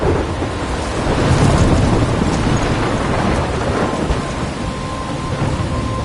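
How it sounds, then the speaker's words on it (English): A heavy thunderstorm in the Life is Strange video game, with loud, dense rain and a deep rolling rumble of thunder that fills the whole stretch without letup. "I'm trapped in a storm?"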